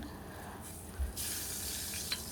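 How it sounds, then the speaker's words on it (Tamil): Marinated prawns sautéing in a pan for a prawn curry give a soft, steady sizzle with a brief louder hiss about a second in, continuing at a low, even level. "நான் மரினேட் பண்ணி வச்சுருந்த இறாலையும் இதுக்குள்ளே போட்டுட்டு ஒரு மூன்று நாலு நிமிஷத்துக்கு வதக்கி எடுக்க போகிறேன்"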